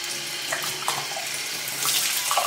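Steady tap water pours and splashes in a sink while a whole chicken of about 1.1 kg is rinsed clean by hand, a continuous close, moderately loud running-water hiss with small splashing shifts and no talking.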